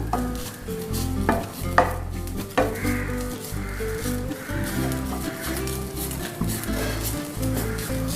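Grated coconut stirred and dry-roasted in a pan, with continuous scraping and stirring noises, soft sizzle and intermittent clinks of a spoon against the pan, close and fairly loud.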